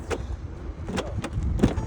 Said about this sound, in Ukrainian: машинка відкривається ось отак